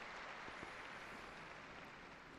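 Crowd applause for newly beatified Capuchin friars, a steady, dense wash of clapping that holds at an even level throughout, heard at a distance across a large open gathering in Rome.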